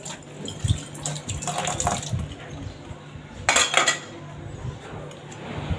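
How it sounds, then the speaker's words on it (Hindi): Dishes washed in a home kitchen sink under a running tap, with a steady water stream, clinks of cutlery and clatter of pots and plates, and louder splashes and knocks partway through. "अभी फटाफट बर्तन धुल जाएंगे हमारे।"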